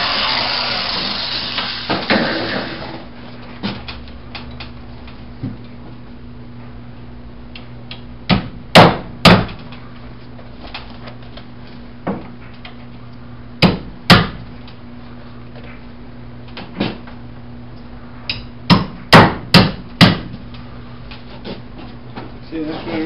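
Sharp hammer blows drive a wooden support under ceiling joists, in scattered bursts, sometimes doubled or in quick clusters, loud and close over a low steady hum.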